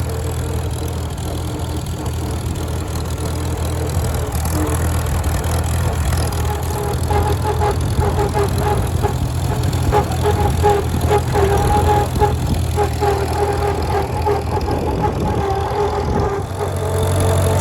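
A Farmall tractor fitted with a 12-volt conversion and magneto runs steadily at a close, loud, rough idle with a constant low rumble and slight unevenness throughout, with no voices.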